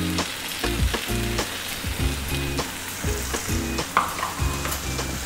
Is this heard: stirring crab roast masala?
yes